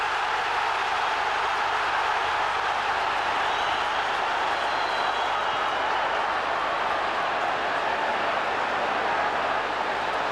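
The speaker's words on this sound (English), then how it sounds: "there's an almighty roar going around the Old Trafford crowd now" A football crowd at Old Trafford stadium during a Champions League group match, Manchester United against Galatasaray, a dense and loud continuous roar of many voices that holds steady without a break.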